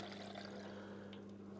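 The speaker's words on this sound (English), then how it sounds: "Right, pour that back in." Black-and-white 35mm film processing chemical is poured back into its container, a soft, quiet splashing pour under a low, steady hum.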